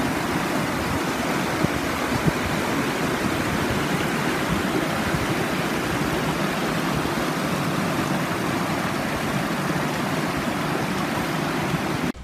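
Waterfall on the Rose River Loop trail in Shenandoah National Park, a loud, steady broadband rush of falling water, close and unbroken, with no voices.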